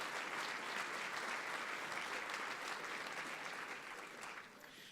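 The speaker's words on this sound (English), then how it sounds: "Please give Sam a round of applause if you would." An audience at an annual trade dinner applauding for Sam DuPont, with dense, sustained clapping from a sizable crowd that tapers slightly at the end.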